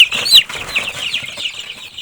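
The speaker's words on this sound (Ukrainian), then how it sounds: "Такі курчата." Young chicks cheep in a rapid, high-pitched run of peeps that sounds close by, with faint rustling and shuffling underneath as the small birds move about.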